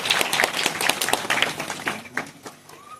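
Audience clapping at an annual village gathering in Nimadiha, a burst of close, sharp, uneven handclaps that thins out into a few scattered claps.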